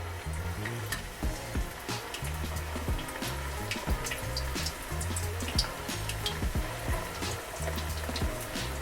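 Quartered plantains for tostones fry in a large pan of hot corn oil, giving a steady, close crackling sizzle with rhythmic low bubbling pulses throughout.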